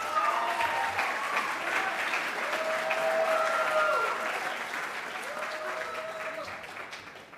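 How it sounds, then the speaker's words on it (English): Sustained audience applause at a school graduation ceremony, a large crowd clapping steadily with some cheering whistles, fading slightly toward the end. "Please give a round of applause for Jack Lai."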